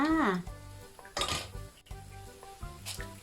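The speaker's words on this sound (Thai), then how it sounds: "เสียงกรอบฉาดตั้งแต่ตอนตักเลยจ้า" Metal utensils clink and scrape against a pan while hot oil crackles and sizzles as crispy fried small shrimp are scooped out, with brief bursts of louder scooping amid a faint voice.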